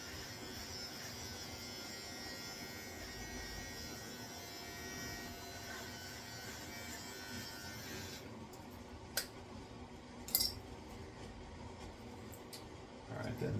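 An electric beard trimmer runs in a continuous close buzz while cutting a short beard, its tone shifting partway through, followed by a few sharp clicks and handling knocks near the end.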